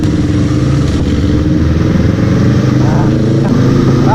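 A Yamaha R3 sport motorcycle engine hums loud and steady while being ridden, a constant mid-pitched drone with wind rumble and no clear breaks.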